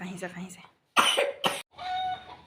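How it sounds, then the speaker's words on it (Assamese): Two quick, harsh coughs from a child, close by, followed by a bit of speech. "কাহিছে।"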